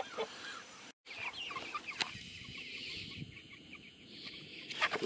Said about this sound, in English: this is some black astralorps, and I'm not sure what the gray ones are